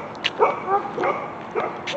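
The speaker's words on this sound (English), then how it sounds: "This dog's shouting at me, look." A dog near a private road leading toward HMP Eastwood Park barks and yips in a quick series of sharp, mid-loud barks with brief whimpering notes, fairly close, with no talk over it.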